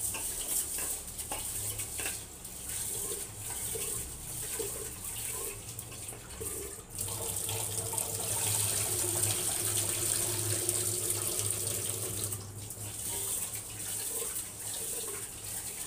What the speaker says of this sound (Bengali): চালটাকে ধুয়ে নিই।